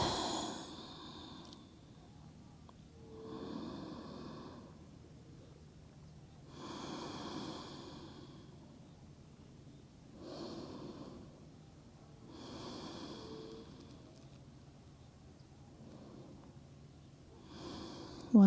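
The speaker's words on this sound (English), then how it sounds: "One more full breath in." Slow, deep breathing during a yoga session, with about six long audible inhales and exhales spaced evenly several seconds apart, close to the microphone and fairly soft.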